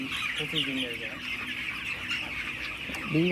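Broiler chickens on a poultry farm keep up a dense, continuous chorus of clucking and chirping from many birds close by, with brief human voices mixed in near the end.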